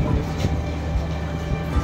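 A passenger train runs from Badulla to Colombo Fort in Sri Lanka with a steady, loud low rumble and rattle of wheels and carriages throughout, plus faint periodic knocks.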